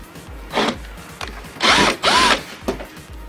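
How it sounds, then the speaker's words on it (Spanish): A power drill whirs in several short bursts, two of them longer with rising pitch, as screws are backed out of a fender on a Ssangyong Actyon, close and loud with no talk. "Retiramos estos tornillos."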